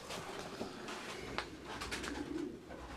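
A late-bred pure Arden racing pigeon coos softly while being held, with low murmuring calls against faint room noise and a few small handling sounds.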